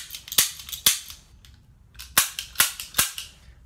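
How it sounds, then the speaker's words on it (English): Toy cap guns fire a string of sharp, loud snapping cracks, two early bangs followed by a quick burst of four after a short pause, with no talking. "And then got our cap guns."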